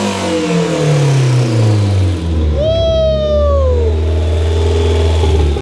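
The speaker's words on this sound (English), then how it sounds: "let's hear one more fucking exhaust sound" A turbocharged Mazda Miata engine revs hard and holds a loud, steady exhaust drone, with a rising turbo whine sweeping up through the middle before settling back.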